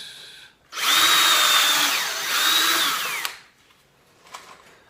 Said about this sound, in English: I'm going to pre-drill this into the long legs.